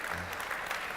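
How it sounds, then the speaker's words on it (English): A conference audience at a digital commerce event applauds after a stage talk. Brief, dense, steady clapping fills the hall. "Your applause again."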